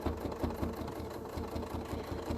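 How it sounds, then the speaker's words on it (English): A sewing machine stitching along the stem of a flower on stamped fabric, running as a fast, even mechanical whir with a regular pulsing needle rhythm, close and steady throughout. "I'm stitching along the edge of the stem of the flower"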